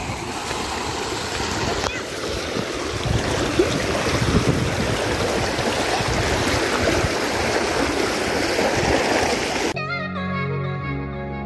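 River water running high during a light flood near a bridge under construction, a dense continuous roar for most of the stretch, with wind buffeting the microphone, before it cuts abruptly to a different sound near the end.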